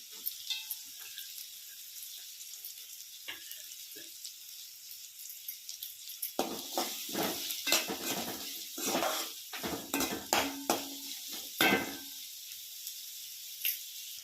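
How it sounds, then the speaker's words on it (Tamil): Garlic and finely chopped large onions frying in a pan, a soft sizzle that turns into a busier stretch of clatter and scraping from stirring partway through, close by with no talking. "பூண்டு நல்லா வதங்கினதும் பொடியாக கட் பண்ணி வச்ச பெரிய வெங்காயம் இதை வந்து நம்ம சேர்த்துக்கலாம்"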